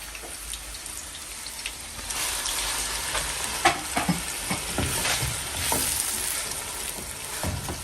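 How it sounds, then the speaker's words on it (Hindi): Close sizzling and crackling of ground onions frying in hot oil, with occasional stirring scrapes and pops; steady and moderately loud, no voices. "ये प्याज जो मोटा मोटा हमने इसको पीस लिया है, इसको हम हल्का मीडियम ब्राउन कर लेंगे"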